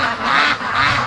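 Free-range ducks quack and honk continuously as a flock files slowly into their pen, a busy chorus of overlapping calls close by with no pauses.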